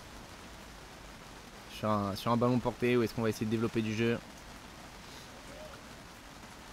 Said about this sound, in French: la pluie qui n'a pas cessé